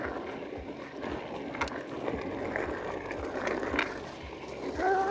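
An electric mountain bike rolling over a rocky route on Whinfell Common, with a steady rumble of tyres on stones, rattling knocks and wind noise close to the microphone.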